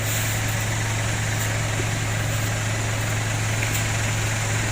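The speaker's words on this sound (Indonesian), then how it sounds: "Mesin Pajero-nya kita matikan" A Mitsubishi Pajero engine idles in a workshop, a steady low mechanical hum with even vibration running unchanged and close, with no voices over it.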